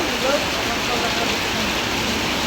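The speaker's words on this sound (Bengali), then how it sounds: "দেখতে পাচ্ছেন মালয়েশিয়া প্রচুর পরিমাণ বৃষ্টি চলে" Heavy rain pours steadily over a market in Malaysia, a dense unbroken hiss of downpour that fills the scene evenly from start to end, with no pauses.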